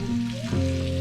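Steak sizzles and fries steadily in a hot pan aboard a sailing boat, a loud, continuous close crackle with a faint stirring scrape, no voices.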